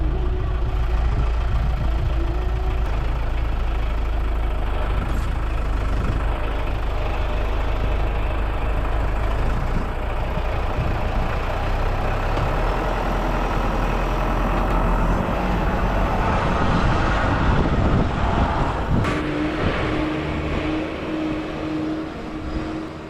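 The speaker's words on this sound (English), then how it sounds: "The tractor handles the snow pretty well, but let's give it a go." A tractor engine runs steadily and loudly throughout while driving through snow, a low rumbling drone with shifting mechanical noise, briefly revving harder near the end.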